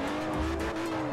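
Tail-happy car on sports tires in Forza Horizon drifts with a steady engine drone and a sustained tire squeal, close and loud over a short burst.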